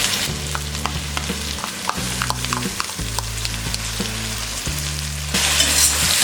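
Tomatoes and mixed vegetables fry on a hot tawa for Mumbai-style tawa pulao, a steady close sizzle with rhythmic stirring scrapes and a brighter, hissier burst near the end, no voices.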